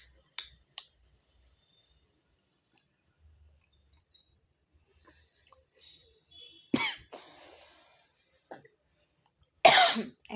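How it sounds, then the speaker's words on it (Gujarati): A person gives a few short, dry coughs in a quiet room, with two sharp bursts standing out against near silence and small clicks. "એટલી કોરી ઉધરસ થઈ ગઈ ને"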